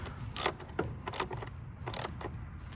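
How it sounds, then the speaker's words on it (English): A socket wrench fitted with an 8mm socket tightens a bolt during a spark plug job on an S550 Mustang GT, giving three short bursts of ratcheting clicks with quiet pauses between them, close and fairly soft. "grab your wrench with an 8mm socket and go ahead and start tightening it"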